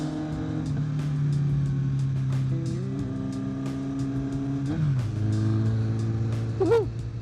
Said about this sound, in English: Sure is hard to get a nice exhaust note at 25 miles an hour.